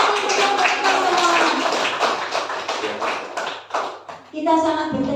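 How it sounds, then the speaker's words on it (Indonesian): An audience of teachers at a school gathering claps hands in brisk, uneven bursts that fade and briefly return, with a voice speaking near the end. "Beri tepuk tangan untuk Bapak kita semua."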